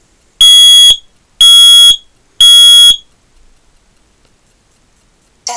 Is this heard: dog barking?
no